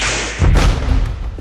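A high-voltage power line arcs to earth through heavy fire smoke, and the plasma burst lands as one loud, close explosive thud after a rushing roar, followed by a rumbling tail.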